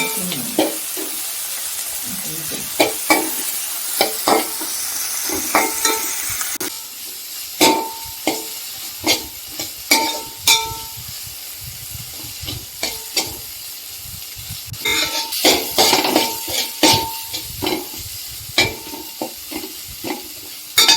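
Tomatoes sauté in a pan for tomato rasam, hissing and sizzling up close while a spatula clacks and scrapes in irregular bursts, loud at first, then quieter, then busier again.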